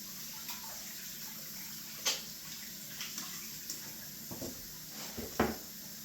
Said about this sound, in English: we're going to give our hands a wash